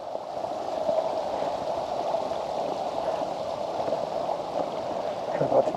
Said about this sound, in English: So it looks like there's 2 or 3 little creeks coming out here.